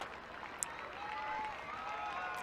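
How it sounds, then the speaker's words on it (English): Crowd at a ladies Gaelic football club championship final applauds as a strong player is substituted off, a steady wash of distant clapping spread across the stands, fairly faint and continuous throughout. "that's why she's getting a big round of applause there"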